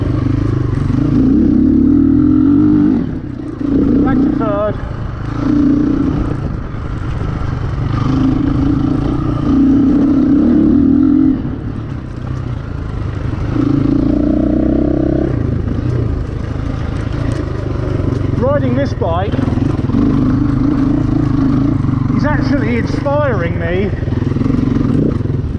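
GPX 250e motorcycle on a hot lap around a track, engine droning and revving through downshifts with a persistent steady tone, while a rider talks over it throughout.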